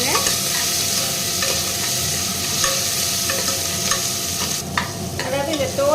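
Onion, curry leaves and tomato fry in a pan while being stirred, a loud close sizzle with scraping spoon strokes and a brief clatter near the end, no speech.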